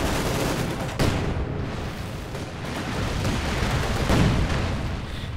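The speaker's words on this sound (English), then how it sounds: "Massive incendiary barrage down here." An incendiary artillery barrage from the Company of Heroes 2 real-time strategy game fills the scene with dense, continuous rumbling blasts and crackling fire, with a few sharper impacts standing out near the start and later on.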